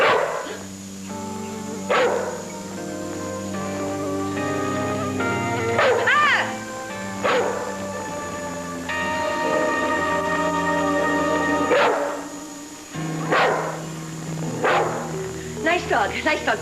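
A dog barks in short bursts, some close and loud, spaced across several seconds, with whimpering yips between them and people talking over a low indoor background.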